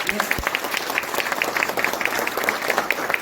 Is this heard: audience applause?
yes